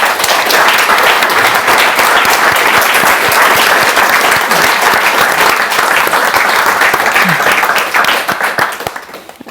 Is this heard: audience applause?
yes